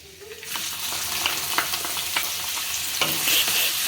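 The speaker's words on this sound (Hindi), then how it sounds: "अब इसमें डाल देंगे प्याज बारीक कटे हुए।" Finely chopped onions sizzle loudly as they are added to a hot pan, with steady frying crackle and occasional stirring scrapes throughout.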